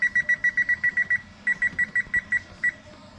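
An oven timer beeps in rapid, evenly spaced bursts, a run of about eight pips, a brief pause, then six more, loud and close over a low room hum with no talking.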